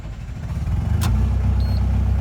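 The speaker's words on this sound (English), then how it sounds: "I will start the engine and test the problem to confirm it." JS220 excavator diesel engine with a low-power fault running after a hard start, a loud steady low rumble with a brief click partway through.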